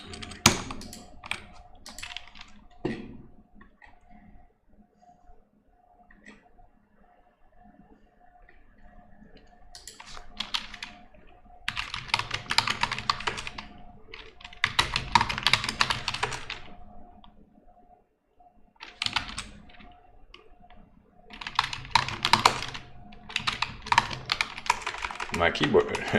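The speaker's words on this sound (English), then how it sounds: "My keyboard is not working, it's like skipping keys." Bursts of typing on a computer keyboard with some keys reportedly skipping, fairly close, with dense clicking flurries between quieter pauses and a few isolated key taps.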